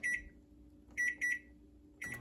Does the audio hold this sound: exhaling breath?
no